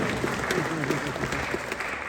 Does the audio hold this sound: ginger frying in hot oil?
no